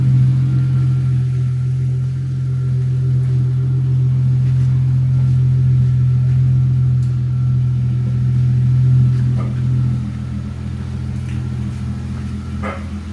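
A Hyundai Genesis V6 engine idles steadily with a loud, low rumble that holds constant, dropping slightly in level near the end, with faint clicks above it.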